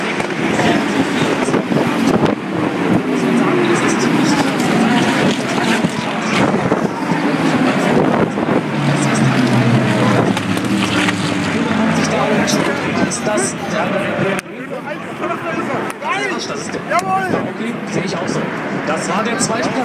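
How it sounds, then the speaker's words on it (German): GT race cars accelerating together at the start of an ADAC GT Masters race, a broad sustained roar of many engines with rising tones, heard continuously under a commentator's voice with wind noise throughout. "Start ist freigegeben, Grün ist geschaltet und damit geht es jetzt auf die 1 Stunden Renndistanz."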